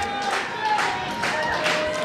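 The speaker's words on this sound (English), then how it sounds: "Crowd showing their support for Isaias" A wrestling crowd at a Zelo Pro show cheers and claps in support of a wrestler, a steady wash of applause with rising swells, fairly loud and close, with no talk over it.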